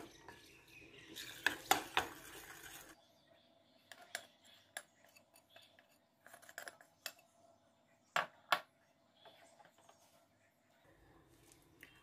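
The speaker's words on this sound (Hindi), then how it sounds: "इसको मिक्स करते जाएंगे।" Intermittent clinks and scraping of a spoon against a bowl while mixing flour for chicken bread dough, soft taps scattered through a quiet kitchen with a rustling burst early on.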